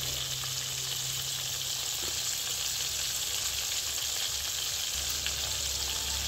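Pakoy fish frying in a pan gives a steady, bright hiss and crackle of hot oil that continues evenly, with a low hum underneath.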